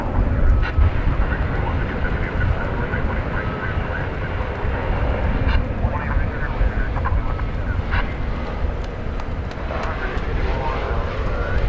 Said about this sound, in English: An Airbus A321.